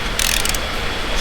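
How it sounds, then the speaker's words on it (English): A ratchet turns on a radiator support bolt of a Holden V8, giving a brief, close burst of rapid metallic clicking over a steady workshop background. "So I'm going to take off the 2 radiator support bolts."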